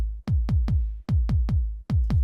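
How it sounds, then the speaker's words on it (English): A dance kick drum sample plays alone, punchy booming thumps in a steady four-on-the-floor pulse, three hits per bar with a brief gap before each group, close and dry. "This is my dance kick."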